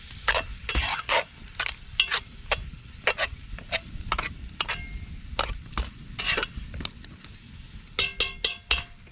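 Food sizzles and fries in a Dutch oven over a campfire, a soft crackling bed broken by repeated sharp metallic scrapes and clinks of a utensil stirring against the pot, close up and without talk.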